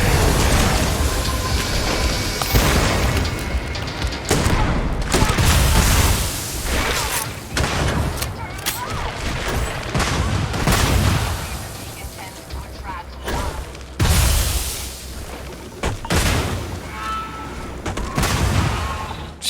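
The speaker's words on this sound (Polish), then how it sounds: "ile eksplozji" Repeated booms and bursts of rapid gunfire in Starfield, loud and dense, with mechanical clatter between blasts and no talking.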